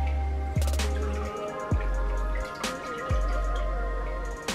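Water from a freshly dyed wig being squeezed out drips into a bowl in a few distinct plops, four clear drops spaced about a second apart over a low steady hum, close and fairly quiet with no talking.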